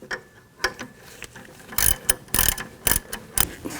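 Ratchet snugging down a brake hose bolt on a 2007-11 Honda CR-V during a rear strut replacement, a few quick clicking pulls in short rhythmic bursts, close and clear.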